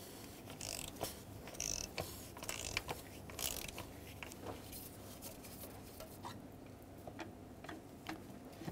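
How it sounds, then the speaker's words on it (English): A 36 mm socket on a ratchet loosens the oil filter housing on a 2008-2010 Ford F-250 with the 6.4L diesel, giving faint, quiet repeated ratchet clicks and metallic ticks at close range. "Use a 36 millimeter socket and break this free."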